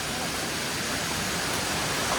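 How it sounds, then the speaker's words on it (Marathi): A waterfall on the misty, rain-soaked Bhimashankar trek gives a steady, dense broadband roar that stays even and unbroken throughout, with no voices. "तुम्ही धबधबा किती छान आहे बघा"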